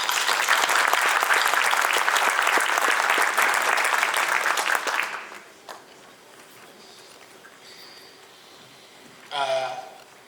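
Audience applause at a rabbinic installation ceremony in a synagogue community, dense and sustained for about five seconds before tapering off into quiet room tone, with a brief voice near the end.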